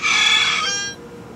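A rooster crow from a phone ringtone, one short, bright, harmonic call that fades after about a second, close and alone.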